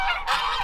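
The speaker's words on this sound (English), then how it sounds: "Stupid geese" Farm geese honk loudly and close by in a short, harsh burst of overlapping calls with no talking.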